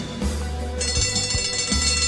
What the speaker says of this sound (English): George holds the bell and gently rings it.